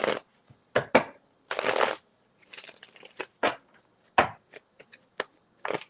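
Tarot cards are shuffled and riffled in several quick, crisp bursts with brief gaps between, close and fairly quiet, without any talking.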